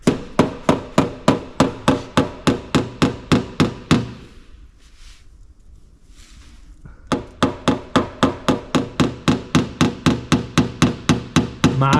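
Steady rapid metal hammer blows knocking dents out of classic car bodywork, a close, sharp rhythmic series that pauses for a few seconds of quiet before resuming at the same pace.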